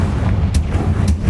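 An explosive Confringo spell cast in Hogwarts Legacy, with two short sharp blasts about half a second apart over a steady low rumble, close and fairly loud.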